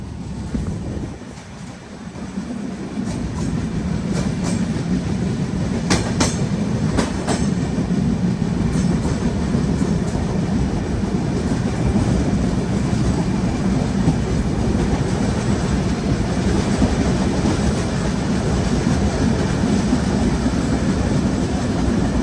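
Azad Hind Express, a Central Railways train of ICF coaches running between Pune and Howrah, rolls steadily on the rails with a loud, continuous close rumble and rhythmic wheel clatter throughout.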